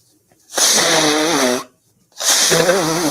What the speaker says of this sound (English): Somebody blowing their own nose in the camera.